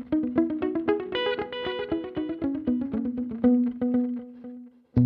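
A clean electric guitar run through a Fractal parallel delay plays a quick sequence of plucked notes, echoes overlapping into a dense wash before a final sharp strum near the end.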